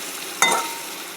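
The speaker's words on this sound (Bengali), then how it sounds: "এই যে পটলটা একটু নেড়ে দেবো" Pointed gourd (potol) being stirred as it fries in a pan, a short burst of scraping and sizzle about halfway through over a quiet steady background hiss.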